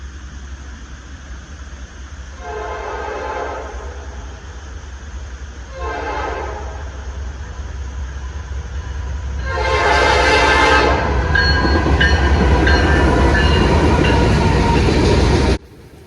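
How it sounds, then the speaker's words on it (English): A Norfolk Southern westbound mixed freight train at a railroad crossing at night, with a steady low rumble of rolling cars, then several loud horn blasts, short ones first and then a long sustained blast close by. "This is train 315 right here. This is westbound mixed freight."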